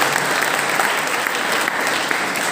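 An audience at a Jain religious ceremony marking a monk's initiation anniversary breaks into steady, dense applause, a continuous loud clatter of many hands throughout.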